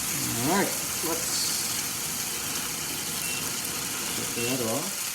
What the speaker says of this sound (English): A little sizzling there.